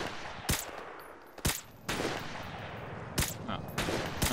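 Gunfire in Call of Duty 4: Modern Warfare Remastered during a campaign mission, with loud sharp shots in irregular bursts and single cracks over a constant background rumble of battle.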